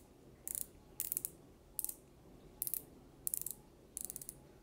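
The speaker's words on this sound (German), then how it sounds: "Die Rolle hat einen richtig schönen Drag-Clicker, hört sich richtig schön an, schön laut" Six short bursts of rapid, crisp clicking from the drag clicker of a Soloking Flyplum R2 fishing reel, each a quick ratcheting run separated by brief pauses, close and clear over a quiet background.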